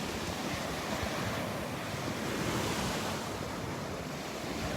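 Steady surf washes onto a Gulf beach at Delnor-Wiggins on a morning walk, a continuous broad roar with some wind buffeting the microphone and no voices.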